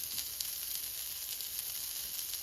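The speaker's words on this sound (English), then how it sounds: "Our sausages are starting to sizzle, and they'll be ready momentarily." Sausages sizzle in a frying pan with a soft, steady crackling hiss and faint scattered pops, quiet and continuous, with no talking.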